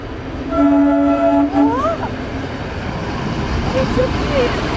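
A train rumbles past close by and blasts a long steady horn that bends in pitch as it moves away, the wheel roar continuing loudly underneath, with faint chatter from onlookers.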